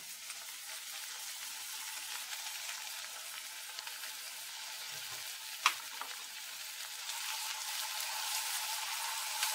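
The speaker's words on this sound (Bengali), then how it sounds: "রসুনটাকে এইভাবে হালকা আমি নেড়ে নিলাম।" Grated garlic sizzles steadily in hot oil in a pan while being stirred, a constant close frying hiss with one sharp clack of the spoon partway through; no talking.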